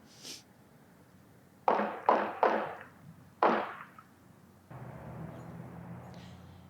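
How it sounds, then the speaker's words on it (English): Four sharp gunshots echo at a distance, three in quick succession and then a fourth after a short pause, followed by faint background rumble. "exclusive video which shows and where you can hear those reported gunshots"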